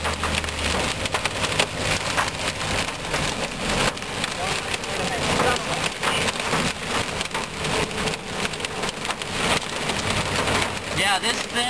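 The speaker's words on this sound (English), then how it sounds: "we are now getting hail as we speak" Hail pelting down during a 2011 severe storm near Pratt, Kansas, a dense, continuous rattling clatter like heavy rain striking surfaces, steady and loud throughout with no clear speech.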